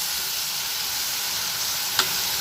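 Tomatoes sautéing in a pan with softened onions, a steady close hiss of frying with a single sharp clink near the end, and no speech.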